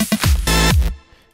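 An 8-bit electro house bass line on a Thor synth using a single oscillator, loud buzzy square-like notes with sharp downward pitch drops, a few short stabs then a longer held tone that cuts off abruptly.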